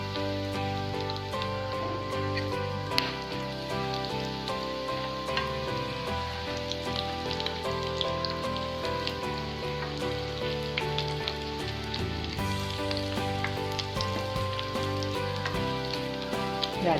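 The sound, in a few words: banana flower cutlets frying in oil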